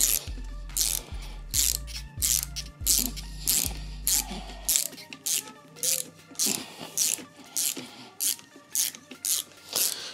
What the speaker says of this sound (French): Une clé de 13 à cliquer si tu as, ou une clé de 13 plate. Tu bloques avec l'autre et tu desserres.